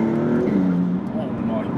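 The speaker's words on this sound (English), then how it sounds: "Let's see how this exhaust sounds." Maserati MC20 exhaust droning steadily from inside the car while driving, a constant low engine note running throughout, with a voice talking over it.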